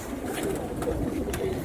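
Teddy pigeons, an Indian breed, coo softly in a loft with low, rolling murmurs and faint background bustle, no clear voices.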